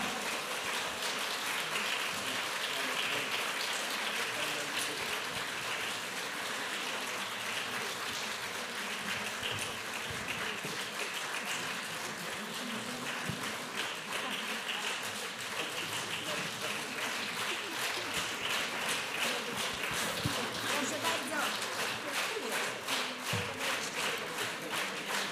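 An audience applauds after a choir concert, dense steady clapping that continues for a long stretch at moderate distance.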